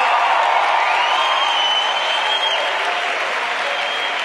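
A large evening gathering claps to welcome newcomers, a loud, dense and unbroken wash of applause with faint whoops and cheers woven through it.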